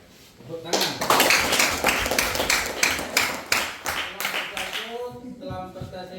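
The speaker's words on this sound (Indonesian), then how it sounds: "Tepuk tangan" A class claps hands together after a group presentation, a dense burst of many overlapping claps that swells quickly and then trails off, with a voice talking faintly underneath.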